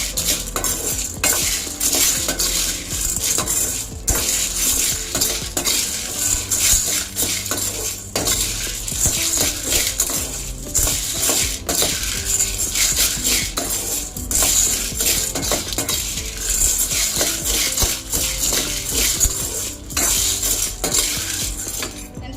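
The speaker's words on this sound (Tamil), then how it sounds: "லேசாக ஃப்ரை பண்ணிட்டு இப்போ வந்து சோளம் இது ஃப்ரை பண்ண போகிறேன்." Large corn kernels being fried in a pan at home: constant clinking and scraping as a metal utensil stirs against the pan, over a soft steady sizzle, close and loud throughout.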